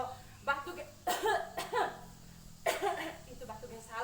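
Deliberate coughs shown as the wrong way to cough, three or four short, harsh bursts close up, with a little talk between them.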